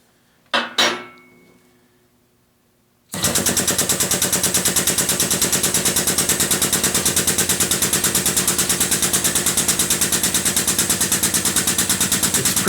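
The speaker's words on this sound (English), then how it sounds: "The only thing I got to do now is try out the air valve." A Harbor Freight 12-ton air/hydraulic bottle jack's air valve opens after two sharp clicks and a short silence, then the pump chatters in a fast, even, loud mechanical rattle that runs without a break.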